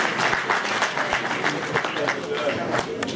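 Applause from an audience at a regional political candidate event in Lazio, brief and moderately loud, with sharp individual claps standing out of a crowd wash and voices mixed in.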